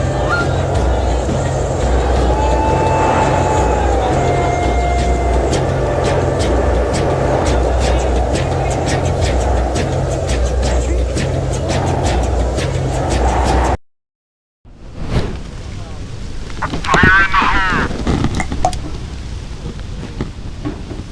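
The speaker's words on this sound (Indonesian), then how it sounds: "Anginnya kenceng guys." Strong wind blows while fishing in Surabaya, a loud, continuous rushing roar with rhythmic low buffeting; after a brief cut the gusts continue more roughly, with a voice briefly heard.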